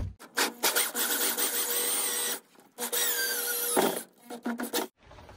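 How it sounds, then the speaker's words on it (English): A power drill drilling into the sump of an AirDog lift pump install, several close, loud bursts of drilling separated by short pauses, with one long run of about 2.5 seconds and shorter ones after. "we're gonna go ahead and just drill it quick"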